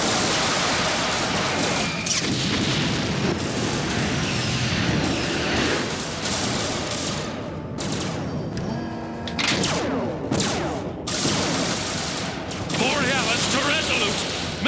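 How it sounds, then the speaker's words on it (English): Heavy gunfire from an animated space battle, dense rapid bursts of blasts and thuds rolling almost without pause, loud and chaotic, with voices shouting amid the barrage. "We're taking heavy fire!"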